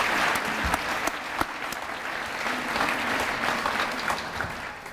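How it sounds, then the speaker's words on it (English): An audience at a school awards evening applauds, producing a steady, fairly loud round of clapping with a few sharper individual claps standing out near the start, sustained for several seconds without speech. "So again, one more round of applause, please, for Erin and for Sandy."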